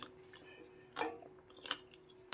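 Crunchy air-fried bitter gourd chips, seasoned with chili powder, are bitten and chewed in a few sharp, close crunches spaced out over a couple of seconds in a quiet room.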